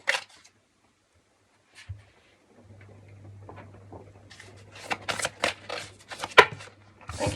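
A Moonology oracle card deck being shuffled, giving crisp papery riffles and flicks that build into a busy cluster toward the end, with a steady low hum running underneath for most of the time.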